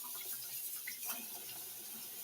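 Tap water runs steadily into a sink while green beans are washed, a continuous hiss and splash heard alone without talk.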